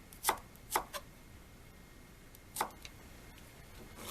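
A knife chops through bitter melon being sliced on the bias on a cutting board, giving three or four sharp, close cuts spaced unevenly with quiet pauses between.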